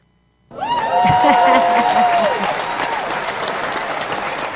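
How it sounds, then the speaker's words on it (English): Studio applause on a talk show swells suddenly after a brief silence, steady dense clapping with a whistle-like cheer early on, then tapering slightly while continuing. "We'll do a little applause on that."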